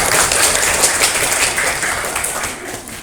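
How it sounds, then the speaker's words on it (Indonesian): Audience applause at an academic sharing session, a broad wash of clapping that starts loud and tapers slightly over about three seconds, with no voices over it. "Tepuk tangan untuk"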